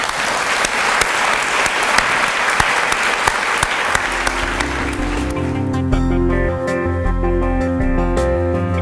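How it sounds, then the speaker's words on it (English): Loud applause from a breakfast awards-ceremony crowd, dense steady clapping that fades as music begins underneath and takes over near the end. "let's give a final round of applause."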